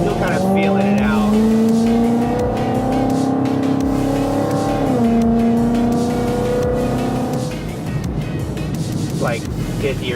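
A tuned Ford Mustang with a Coyote V8 revs at partial throttle, with a steady rising and falling engine drone and clear harmonics held for several seconds, plus a voice speaking over it.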